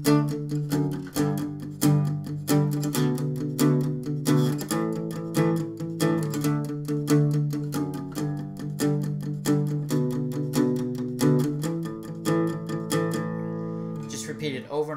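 Acoustic guitar plays the verse of a song as steady, rhythmic plucked chords repeating at an even pulse for the whole passage, close and clear with no talking.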